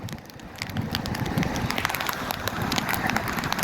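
Heavy first monsoon rain pours down in Mahuva, a dense, steady hiss and patter of close drops with scattered crackling impacts, holding level throughout the short stretch.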